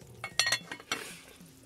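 Chicken and rice being stirred in a pan over high heat in an RV kitchen: a few close utensil scrapes and clinks, then a soft fading sizzle, with no voices.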